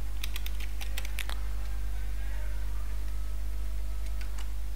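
A location is typed on a computer keyboard: a quick run of crisp key clicks early on, then a few scattered taps over a steady low electrical hum, with no speech.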